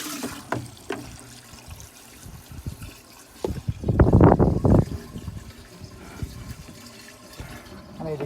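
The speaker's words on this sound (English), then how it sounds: "we've got water that's splashing down off of everything everywhere now" Water from a hose pipe splashes down into a barrel filter for a DIY koi pond, a soft steady trickle with one louder splashing surge midway, no talking.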